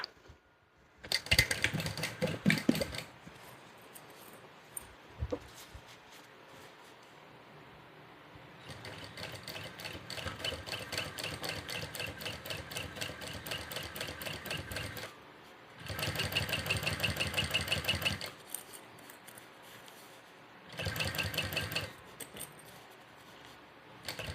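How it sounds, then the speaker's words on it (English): A sewing machine topstitches a hip bag at one-eighth inch from the edge. It runs in several separate bursts of rapid, even stitching with short quiet gaps between them, loud and close. "So top stitching at 1/8 of an inch."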